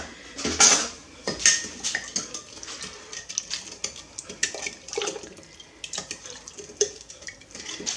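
A spoon stirs cane sugar into boiling water for kombucha, giving irregular metallic clinks and scrapes against the pot, louder at first and then lighter and scattered.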